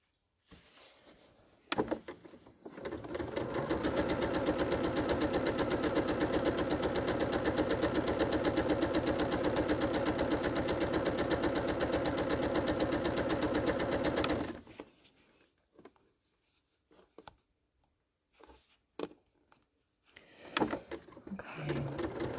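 A sewing machine stitches fabric panels in one steady, continuous run of rapid mechanical chatter that lasts about twelve seconds, then stops and gives way to quiet handling noises.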